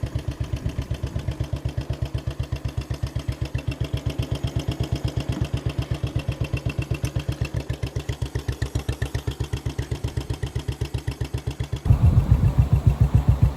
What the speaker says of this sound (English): the Bullet, the Royal Enfield Bullet